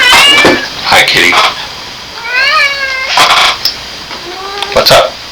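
A cat meows several times up close, with drawn-out rising and falling cries between short bursts of a person talking nearby.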